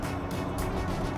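A KG Mobility Rexton Sports Khan Coolmen engine rumbles low and steady from inside the cab during a manual downshift, a muffled continuous drone with slight swells in tone, and no voices.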